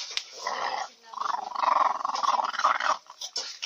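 A dog growls low and steadily while eating, a rumbling, purring snarl that swells and fades over a few seconds, close and alone.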